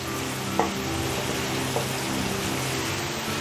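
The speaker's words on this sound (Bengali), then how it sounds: "এবার আমি যে পেঁয়াজ আর ক্যাপসিকামটা ভেজে রেখেছিলাম আমি দিয়ে দিলাম" Fried onion and capsicum tipped into a hot kadai on full flame for kadai chicken, giving a steady close sizzle and frying hiss with a couple of soft clatters as the vegetables land and settle.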